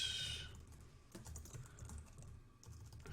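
Soft, close keystrokes on a computer keyboard during work in Notion, a quiet, steady run of taps over a faint background hiss with no speech.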